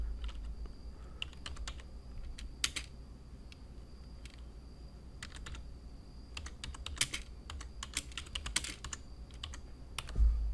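Typing on a computer keyboard, heard as soft, irregular keystroke clicks scattered through the whole stretch, quiet and close with no voices.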